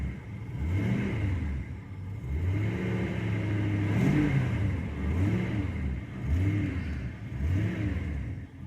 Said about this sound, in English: I don't want to race it too hard while it's cold like this.